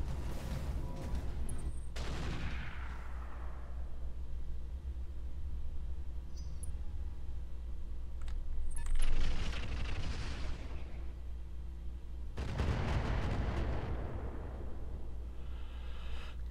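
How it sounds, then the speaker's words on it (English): Heavy mortar carrier artillery fire booms in the Roguetech video game, with two big broadband blasts about ten seconds apart over a constant low rumble, the second rolling on for several seconds. "Goddamn mortar carriers."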